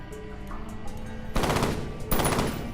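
Gunfire in the video game F.E.A.R. arrives as two loud, dense bursts of rapid automatic shots, the first longer and the second following after a short gap, standing out over a low background hum.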